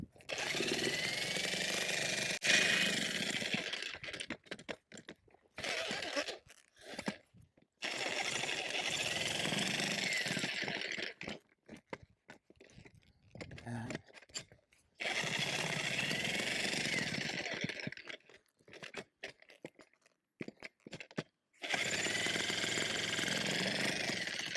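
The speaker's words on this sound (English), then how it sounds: "the jackhammer." Jackhammer breaking rock around a wood fence post, loud close bursts of rapid pounding lasting several seconds each, separated by short quiet pauses.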